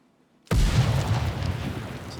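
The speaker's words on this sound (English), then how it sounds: "So the frag goes off." A frag grenade detonates in Ground Branch, a sudden deep boom out of near silence followed by a long rumbling, debris-laden tail that stays loud for the rest of the moment.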